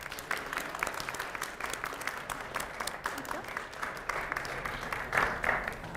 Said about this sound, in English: One last round of applause for our two candidates before the election,